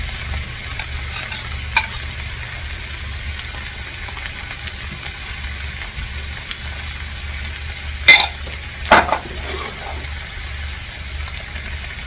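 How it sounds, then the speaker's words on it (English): Chive and onion pancakes fry in a pan with a soft, continuous sizzle and low background hum, punctuated by a couple of brief louder clatters near the end. "So we're gonna fry up our chive pancakes."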